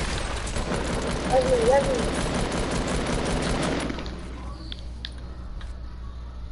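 Rapid gunfire bursts and other combat noise from a shooter video game fill the first four seconds as a dense, loud clatter, then thin out into quieter game sounds. A player speaks briefly over the action.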